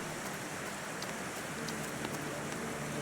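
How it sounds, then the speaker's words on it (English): Rain falls steadily in a garden in the video game The Thaumaturge, a soft, even hiss of drops with a few faint pattering ticks, quiet and with no voices. "Ah, rainy."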